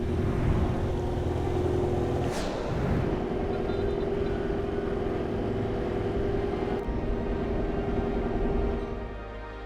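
Steady engine drone of a boat on the Nile at Rashid, a constant low rumble with water wash, staying close and loud before easing slightly at the end.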